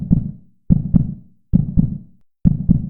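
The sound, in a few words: strong heartbeat after running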